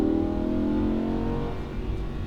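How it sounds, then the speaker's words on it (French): A Lamborghini Huracan accelerates hard on a racing circuit, its engine note loud and close with a strong harmonic roar that holds then eases slightly toward the end, no speech over it. "Mets le volant bien droit et accélère fort."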